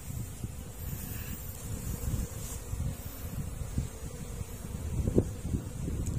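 Honeybees swarming near hives in Tagum City, a faint, steady buzzing hum with wind noise and rustling, no one speaking, the drone rising slightly in places.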